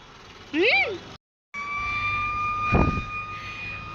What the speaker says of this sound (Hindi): फाइनली सायरन हो गया है।